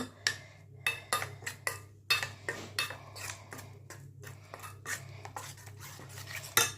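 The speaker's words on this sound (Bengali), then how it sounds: "এটাকে এই মশলাটাকে আমি মাখিয়ে নেব" Spice paste of chili powder, turmeric and yogurt being mixed by hand in a metal bowl: irregular clinks, scrapes and wet squelches at close range over a faint low hum, with no speech.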